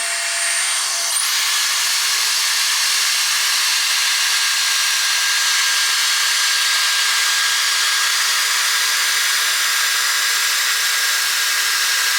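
A Dyson Airstrait hair dryer blows on hair in a loud, constant, close whoosh that starts after a brief click and holds steady throughout, with no speech.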